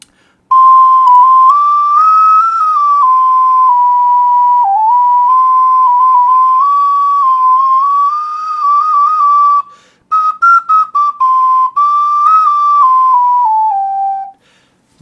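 A purple clay tenor ocarina plays improvised high notes, a pure, airy whistling tone wandering through a short melody, loud and close, with a few brief breaks near the end.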